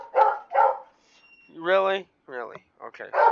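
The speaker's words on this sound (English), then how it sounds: "I'm sorry about my dog barking in the background" A dog barks twice in the background at first, then gives a drawn-out howl-like bark and a few shorter yips, while someone talks close to the microphone in between.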